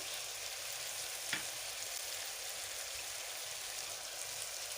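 Finely chopped green chilies fry in hot oil for chicken macaroni, producing a constant close, rain-like sizzle with a single brief knock of a utensil.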